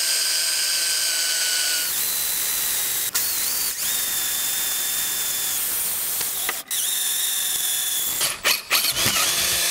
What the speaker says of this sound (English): now using my drill with a 5/32 drill bit, I'll be drilling all these holes here